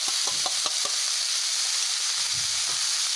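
Shredded cabbage sabzi sizzling in a hot pan while being stirred, steady frying hiss with a few quick scraping knocks of the spoon early on and soft clatters later.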